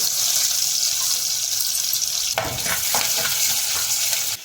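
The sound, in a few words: mustard seeds, fenugreek and crushed garlic frying in hot oil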